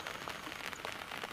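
Rain patters steadily on a surface at a forest campsite during heavy rain, a dense, even hiss of drops without pause.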